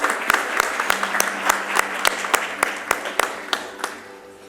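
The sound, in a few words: audience applause for conference chief guest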